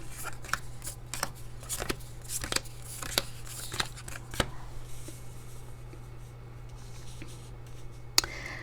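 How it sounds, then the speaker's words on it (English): Tarot cards are laid out on a table one after another, a series of soft sharp slaps and slides, quick at first and then sparser, close and quiet over a low steady hum. "So let's put all the cards out."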